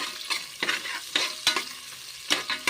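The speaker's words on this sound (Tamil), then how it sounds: "வெங்காயத்தை நல்லா இப்போ நம்ம வதக்கி விட்டுருவோம்." Onions being sautéed for a chicken curry, stirred in a pan with a rhythmic series of about eight scraping strokes over a constant sizzle, close up and clear, no voices.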